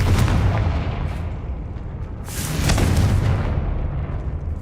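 A Confringo fire spell bursts in Hogwarts Legacy combat, a loud booming blast around the middle with rumbling noise and crackle filling the rest.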